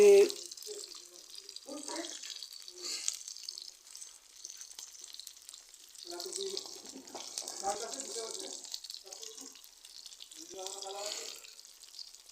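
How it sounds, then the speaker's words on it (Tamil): Fish fries in a pan with a continuous hissing sizzle that rises and falls in waves, while someone talks over it. "பாருங்க நண்பர்களே மீனை போட்ட மீன் பொரியுது"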